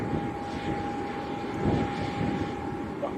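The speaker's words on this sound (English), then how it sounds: "The noise that you can hear at the moment, guys, is coming off the jet too." A steady jet engine roar at Leeds Bradford Airport, a continuous broadband rumble carrying a constant high whine, with a slight swell near the middle of the short stretch and no one speaking.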